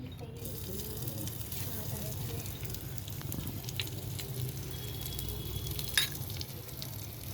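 Chopped onions frying in hot oil with mustard and cumin seeds, a soft continuous sizzle with light stirring and a brief clatter near the end, heard without talking.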